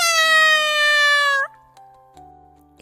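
Cat meowing in a fairy-tale narration, one long drawn-out close meow sliding downward and stopping abruptly, followed by quiet faint tones, with no talk.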